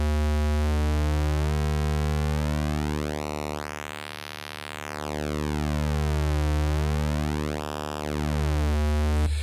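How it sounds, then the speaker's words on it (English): A sustained Korg synthesizer square wave rich in harmonics, its timbre slowly sweeping as the pulse width shifts, rising and falling in brightness twice. "flipped it to a square, hear the pulse width"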